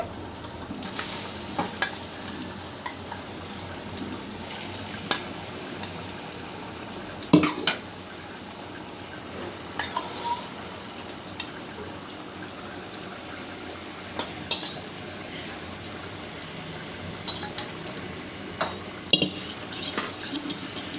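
Prawns being stirred into a curry in a pan: a steady sizzle with scattered utensil clinks and scrapes against the metal.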